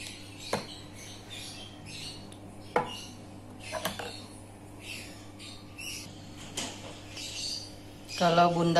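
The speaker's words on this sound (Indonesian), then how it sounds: "Kita aduk terus" A spoon clinks and scrapes against a pan as flour batter for Minang balado fritters (bada tepung balado) is stirred. The sharp, scattered knocks sit over a low steady hum, with faint bird chirps in the background and a louder scrape at the end.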